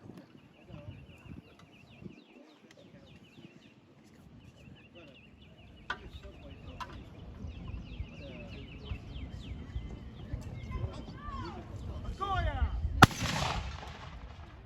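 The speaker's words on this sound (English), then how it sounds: "we were able to get through it, so there's our 3 rounds on the Soviet gun" A Soviet 45mm anti-tank gun fired at a WW2 reenactment: a single loud, sharp blast near the end follows a long stretch of quiet outdoor ambience with birds and insects.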